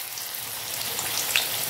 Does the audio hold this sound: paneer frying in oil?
yes